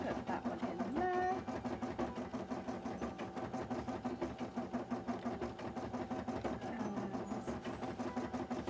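A sewing machine runs steadily around the edge of a cosplay piece, its rapid stitching pulse close and continuous for the whole stretch, with a short whirring tone near the start.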